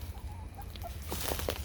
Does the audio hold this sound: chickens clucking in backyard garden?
yes